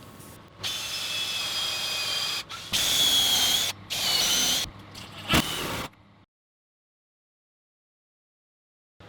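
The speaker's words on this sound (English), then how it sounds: "So you screw this piece to the wall with the narrower side facing the wall." A power drill drives screws through a pegboard shelf cleat into a wall in several loud, close whirring bursts of a second or two each, separated by short pauses and followed by silence.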